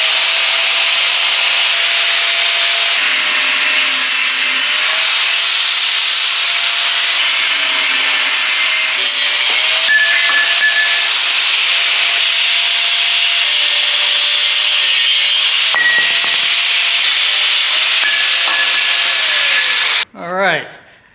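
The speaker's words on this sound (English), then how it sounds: "Let me get the grinder and the cutoff disc, and we're gonna get after it." An angle grinder with a cutoff disc bites into a Chevrolet Silverado axle during narrowing for a C10, giving a loud, steady, high-pitched grinding whine for about twenty seconds before it cuts off abruptly.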